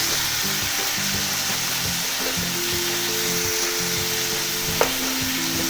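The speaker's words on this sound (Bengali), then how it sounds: "আবারও খুব ভালো করে নাড়াচাড়া করে নেব" Beans and potato curry fry in a pan while being stirred, making a continuous dense sizzle and hiss with a repeating low thrum and one brief clink near the end, close and even in level.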